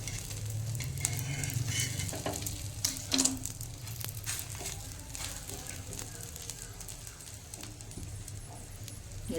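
Aloo paratha fries in oil on a pan with a continuous soft sizzle, broken by a few louder crackling spurts and light clatters.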